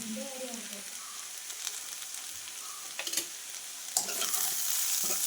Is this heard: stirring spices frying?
yes